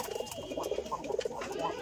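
Pigeons coo in a tall pigeon house raised on bricks, giving soft, low, rolling calls that repeat in close, overlapping bursts with no talking.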